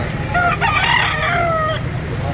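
A rooster crows once, loud and close, its drawn-out call rising and then trailing off over faint background noise.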